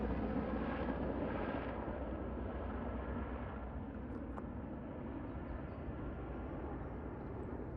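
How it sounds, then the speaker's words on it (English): A steady, low mechanical roar with a broad rumble, like a helicopter passing overhead, holds evenly throughout at moderate distance. "It's like a full-on attack helicopter."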